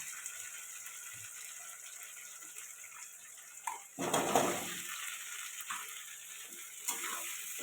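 Potatoes drop into spice paste of ginger, fennel, cumin and green chilli frying for a fish curry, setting off a sudden loud sizzle over a steady low frying hiss, alone without speech.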